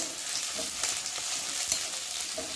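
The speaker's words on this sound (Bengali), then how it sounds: "পেঁয়াজটা ভালো করে ভেজে নেব।" Onions and slit green chillies frying in hot oil give a steady, close, continuous sizzle with faint crackles and light stirring scrapes, with no voices over it.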